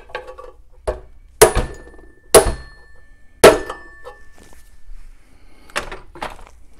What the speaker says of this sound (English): take a rubber mallet and tap it on